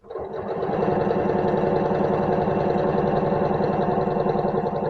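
Sewing machine stitching a seam in fabric on a Halloween trick-or-treat tote, running at a steady fast pace with an even mechanical whir and rapid needle ticking, close and continuous after a brief start.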